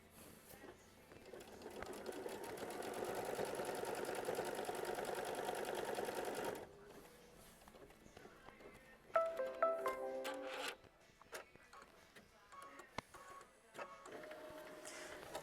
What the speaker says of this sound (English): And then you're going to sew it down with machine stitch step 13.